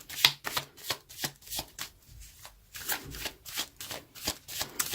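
Tarot cards are shuffled by hand in quick, repeated riffling bursts, crisp and close, with about a dozen papery flutters over five seconds.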